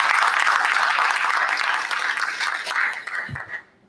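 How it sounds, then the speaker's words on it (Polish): Dense audience applause in a hall fills the space loudly and evenly, then thins out and fades to silence over the last second. "To brawa, tak."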